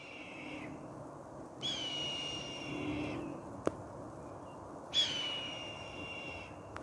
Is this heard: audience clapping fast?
no